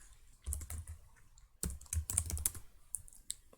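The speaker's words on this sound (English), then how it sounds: "type in repeat sketch" Quick bursts of clicking keystrokes on a computer keyboard, close and fairly quiet, split by a short pause, with no talk.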